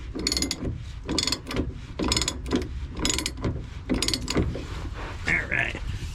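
Ratcheting wrench clicks in quick, repeated bursts while a fuel filter is tightened on a 3.0L Duramax diesel in a Sierra pickup; the ratchet sounds close and mechanical, with brief pauses between strokes.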